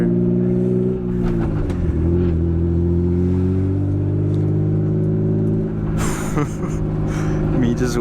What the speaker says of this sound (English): Also hoping you can still hear the car.